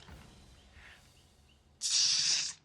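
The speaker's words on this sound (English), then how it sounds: "just spray some lube" Lubricant sprayed from an aerosol can onto a hot rod windshield frame gives one steady, loud hiss lasting under a second, following a stretch of quiet background.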